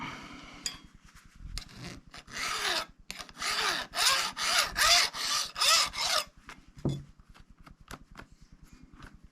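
A file rasps across the 0.325-inch chain teeth of a STIHL MS250C chainsaw in about a dozen rhythmic strokes, each a close, scraping pass, with a few quieter clicks and handling sounds before and after.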